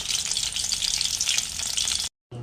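Chicken pakora fries in hot oil with a loud, dense, continuous sizzle, close up, that cuts off abruptly near the end.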